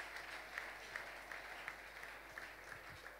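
A church congregation applauding, a steady patter of many hands clapping at moderate distance with faint rhythmic accents, without speech.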